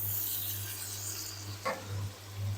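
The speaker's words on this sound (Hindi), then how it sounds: "और अच्छी तरह से ना हमने मिक्स कर लेना है" Fried potatoes are stirred into spice masala in a pan with soft scraping and rubbing strokes over a steady low hum, including one sharper scrape midway.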